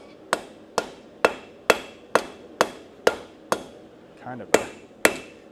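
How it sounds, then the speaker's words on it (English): Hammer forging hot metal at a blacksmith's anvil: about a dozen loud, sharp, ringing strikes in a steady rhythm, close up, with a brief spoken remark between blows. "Let's forge this guy out a little bit."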